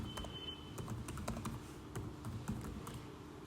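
Quick, steady typing on a computer keyboard, close and fairly quiet, with keystrokes tapping in an even run throughout and no voices.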